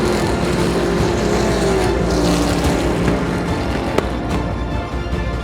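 Race cars roar in a dense, steady engine drone on a wide dirt oval track, loud and sustained, with a brief sharp knock partway through.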